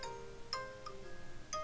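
A phone call ringing tone on a mobile handset, a faint repeating series of electronic chimes and pings, with no talking over it.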